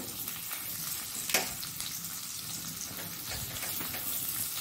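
Cumin, crushed black pepper and curry leaves sizzle in hot oil for a Mangalore-style onion chutney, a steady close crackling hiss with a few sharper spits and light stirring.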